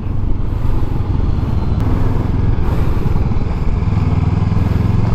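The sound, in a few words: 2024 Honda NX500 motorcycle riding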